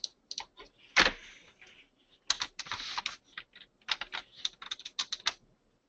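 Quiet computer keyboard typing, irregular bursts of clicky keystrokes with short pauses and one louder thump, close by with no talking.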